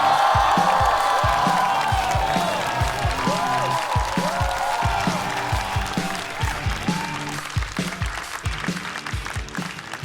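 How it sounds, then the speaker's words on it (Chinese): A studio audience at a stand-up comedy competition show gives loud, sustained applause with a few whoops and cheers, the clapping gradually thinning toward the end. "掌声有请"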